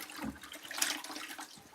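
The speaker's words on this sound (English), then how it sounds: "We're gonna rinse it off" Water rushing over a garden tool as it is rinsed outdoors, a soft continuous splashing flow with a brief louder gush midway, fairly faint and with no talking.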